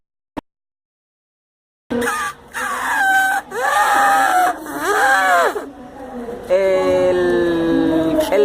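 Man imitating an elephant with his voice, a loud, close trumpeting wail in several rising and falling bursts, ending in a long sustained blare.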